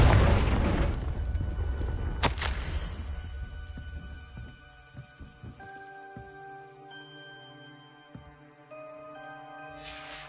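A Confringo spell in Hogwarts Legacy bursts with a loud, crackling blast that rumbles and decays over several seconds, followed by a sharp crack and scattered pops, then faint chiming tones.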